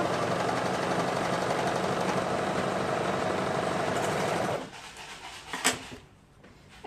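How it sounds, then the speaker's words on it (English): A sewing machine stitches the shoulder seams of a sweater being refashioned into kids' clothes, running as a steady, loud whirring hum that stops abruptly, followed by a few faint clicks. "we're going to sew both shoulder seams before we do the neckband"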